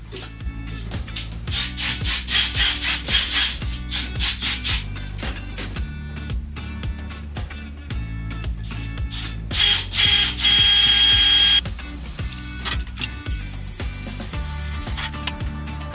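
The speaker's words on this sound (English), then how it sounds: "I'm just going to drill 2 pilot holes" A power drill whirs and grinds in repeated bursts, close and loud, biting through material with rattling and scraping between runs.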